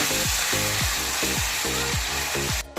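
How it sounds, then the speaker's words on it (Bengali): Capsicum and onion sizzle loudly in a pan of oil for chili chicken while a spatula stirs in a steady, repeated scraping rhythm, about six strokes, close and without talk. "ক্যাপসিকাম আর পেঁয়াজগুলো হালকা করে আমি নেড়ে নেব"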